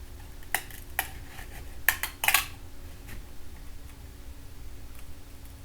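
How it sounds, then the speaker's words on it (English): A knife twisted and slid down a bamboo pole to split it, giving a few sharp woody cracks and clicks, with a quick cluster of snaps near the middle, then quiet; no talking. "I rotate the knife, and twist it, and slide it down the bamboo"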